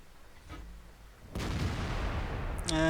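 Tank cannon fire in the game World of Tanks: one loud, close boom strikes midway and lingers in a long rumbling decay, after a fainter earlier thump, with a short game tone at the end.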